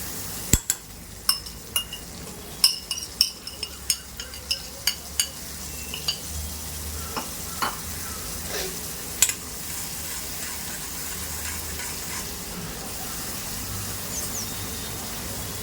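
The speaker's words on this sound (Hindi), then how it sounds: "इसको अच्छे से जब तक का आपको भूनना है ये मसालों को" Spices fry in oil for Mumbai chana chaat, a steady low sizzle under a quick run of sharp spoon clinks against the pan, then quieter stirring and occasional taps.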